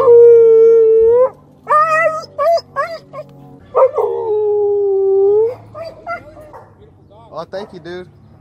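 A husky howls in long drawn-out wails mixed with yips, whimpers and short barks, loud and close, with a few gaps between the calls.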